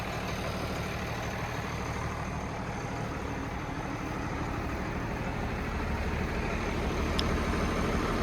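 A heavily loaded harvest truck labours up a steep hill, its engine a steady, fairly quiet low drone that holds without a break and with no talking.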